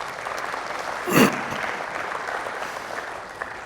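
Steady audience applause at an evening talk event, a continuous wash of clapping with one louder flare near the middle, some voices faintly mixed in.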